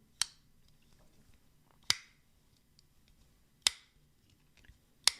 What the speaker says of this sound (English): This is when you deploy the blade.